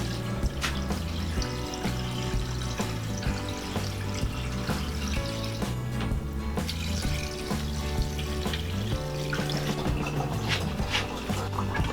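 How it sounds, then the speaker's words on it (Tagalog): Tap water runs steadily into a pressure cooker for pork humba, a continuous splashing stream over a constant musical backing. "Tapos lalagyan ko po ng tubig para po mapalambot natin."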